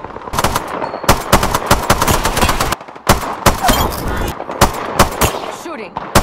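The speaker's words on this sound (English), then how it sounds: "Shooting." Rapid automatic gunfire from the Apex Legends video game, loud, dense bursts of shots with brief breaks, layered with other game sound effects.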